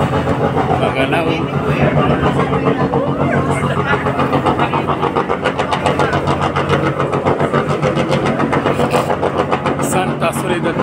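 Ship engine aboard the moving passenger vessel Santa Soledad, a steady loud low drone and mechanical rumble running continuously, with people talking over it.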